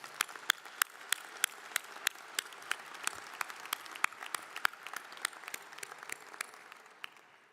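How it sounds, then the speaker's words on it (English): Applause at the University of Wyoming spring 2024 undergraduate commencement: a large audience claps in a steady rhythm of sharp individual claps that gradually fade out near the end. "Please join me in giving them all a round of applause."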